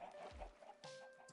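Minecraft chickens give a few soft, faint clucks in short bursts against low background game sound, with no talk.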